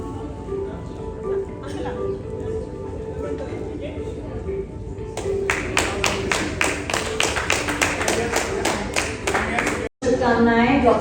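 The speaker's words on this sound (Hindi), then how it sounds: "जोरदार तालियां हो जाए for Dr. Nidhi Gulati" Audience at an excellence awards ceremony clapping for an education award recipient, scattered individual claps firming into a rhythmic, close round of applause after a stretch of speech from the stage.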